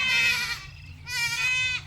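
Farm goats answer a call with two long, loud wavering bleats, close by, separated by a brief pause.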